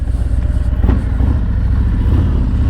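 Motorcycle riding slowly at 8 to 10 miles an hour in the friction zone while dipping side to side, a close low engine chug with slight revving and wind rumble.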